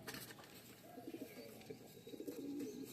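A female black Monitor pigeon coos in soft, low, repeated murmurs, faint against a quiet background with light rustling.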